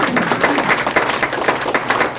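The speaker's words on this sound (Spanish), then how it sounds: "Denle un aplauso" A church congregation applauds during a sermon, a short, loud, dense patter of many hands clapping close by, rising and falling slightly in intensity.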